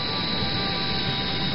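Steady, loud engine roar of an airplane coming in to land in the video game GTA San Andreas Multiplayer, a continuous dense drone with no talk over it.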